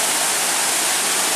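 A waterfall at a tourist spot roars with dense, constant broadband rushing water, loud and steady throughout, with no voices.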